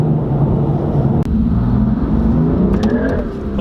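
A BMW M4 with a bootmode tune accelerates hard on a test drive, its engine droning loud and close from inside the cabin, the pitch climbing steadily as it pulls.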